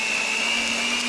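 An electric hand mixer whirs steadily at high speed in a high-sided bowl as it spins to shake off filling. The motor is loud and close, with a constant tonal whine and no talk.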